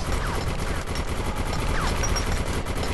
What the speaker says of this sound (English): Who's shooting with that weapon now?